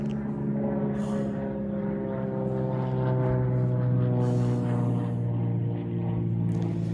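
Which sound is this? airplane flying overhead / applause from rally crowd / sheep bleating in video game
airplane flying overhead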